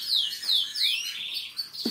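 A painted canary with an orange breast and white-tipped tail and wings gives a run of bright, high chirps and short sweeping whistles in quick succession, close and clear, with no talking over it.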